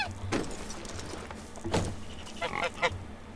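Geese honking in the medieval game Medieval Dynasty, several short, harsh calls in scattered bursts, fairly near, over a low background.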